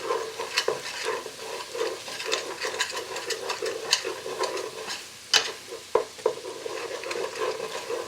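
A spoon stirs flour into hot fat in a pan for a roux-like base for potato and bacon soup, giving steady scraping strokes with repeated clicks against the pan under a soft sizzle, close and alone.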